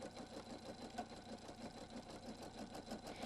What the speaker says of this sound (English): Your designer 2 will automatically embroider the first color, in this case, the red ribbon.